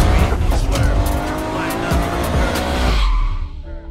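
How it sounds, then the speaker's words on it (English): An Audi TT and a Peugeot 206 RC street race on wet roads, engines roaring loudly up close with tire squeal and skidding noise before the sound drops away sharply. "a Peugeot 206 RC versus Audi TT race in the rain"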